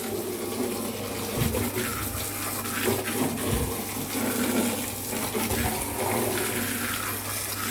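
Steady running water pours and splashes as shelves are rinsed inside and out in a sink, a continuous close wash with faint knocks of handling.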